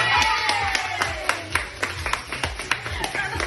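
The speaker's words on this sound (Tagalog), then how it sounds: "Yung mga nabigyan, pumalakpak pa rin kayo, ha?" Audience applause at a KTV bar in Manila: a steady run of sharp claps from a small group over a low background beat, with a voice heard briefly.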